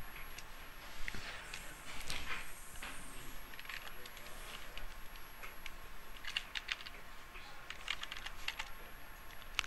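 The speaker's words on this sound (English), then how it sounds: "You guys probably can type much faster than I can." Typing on a computer keyboard while drafting text for a concrete foundation section in Revit, with a steady run of light key clicks in bursts over a faint background hiss, no talking.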